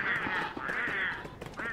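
Honking, goose-like bird squawks from the video game Don't Starve, drawn-out wavering cries repeating in quick succession, fairly close and clear.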